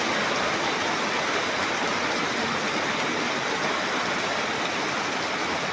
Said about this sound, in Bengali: দেখেন প্রচুর পরিমাণে বৃষ্টি হইতেছে।